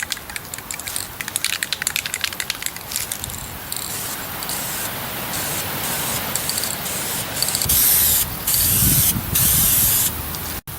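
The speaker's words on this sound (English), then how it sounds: "Now it's time to put a little paint on it." A spray can paints a rod carrier outdoors, producing a loud, close hiss that runs in long bursts with brief breaks, the sound breaking up in the wind near the end.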